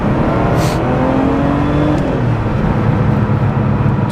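A turbocharged car accelerates onto a small highway, its engine giving a loud, steady, close-up drone that builds and holds without a break, with no talking.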